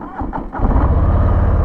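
A 2022 Harley-Davidson Street Bob motorcycle engine cranks and catches, then settles into a loud, close, steady low rumble of uneven idle pulses.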